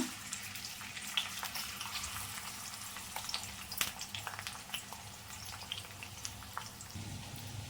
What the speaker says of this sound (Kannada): ಆನಿಯನ್ ಕಟ್ ಮಾಡಿ ಇಟ್ಕೊಂಡಿದ್ದೀನಿ. ಆನಿಯನ್ ಸೇರಿಸ್ಕೊಳ್ಳೋಣ.